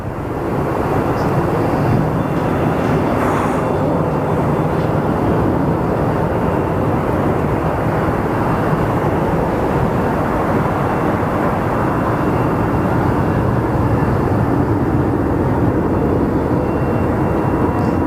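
Jet aircraft arriving at Phoenix Sky Harbor Airport, a loud, steady, broadband roar that holds without a break throughout, with wind buffeting the microphone.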